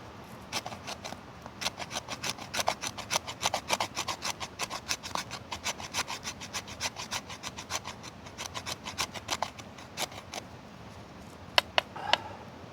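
Rob Evans MK2 hand tool shaving wood, producing a long run of quick, even rasping strokes that are close and fairly quiet, followed by a couple of sharper clicks near the end.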